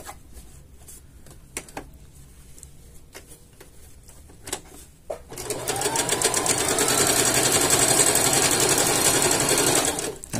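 A sewing machine runs a load-bearing seam through fabric; after scattered light ticks and taps, the motor starts and whirs in a fast, steady, close hum for about five seconds.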